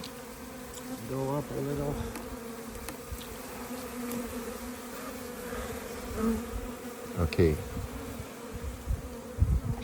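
Honey bees buzz steadily and close by as a cluster climbs onto a hive, their drone constant under a few brief spoken words.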